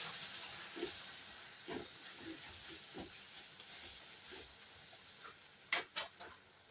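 Tomatoes hit a hot pan of spiced oil and sizzle steadily while being stirred, a soft continuous hiss with a few sharper scraping clatters near the end.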